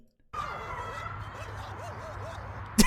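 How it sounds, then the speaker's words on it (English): A zipper being drawn that comes out sounding like a yipping dog, a steady rasping whir with wavering squeaky pitch sweeps, heard up close for a couple of seconds before a sharp click at the end. "That's not a dog, that's a zipper."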